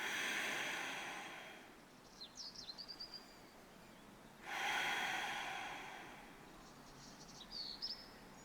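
Slow deep breaths during backyard yoga, two long airy exhales a few seconds apart, close and soft, with faint bird chirps and crickets outdoors in the background.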